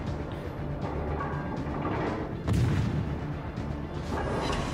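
Naval gunfire in the World of Warships game from a Clemson destroyer, a dense continuous rumble of distant cannon booms with one heavier blast standing out midway, no voices.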